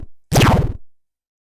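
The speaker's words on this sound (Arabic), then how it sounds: "vanish sound effect, glitch" A short vanish or disappear sound effect, apparently made with the mouth: a quick, punchy burst with a falling, warbling pitch that lasts about half a second, then silence.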